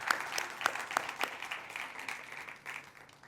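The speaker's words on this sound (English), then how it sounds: "another round of applause for our fearless leader and this wonderful human being" Applause from the audience at an iftar dinner, a soft, steady wash of many hands with a few sharper claps standing out early, fairly distant, with no voices on top.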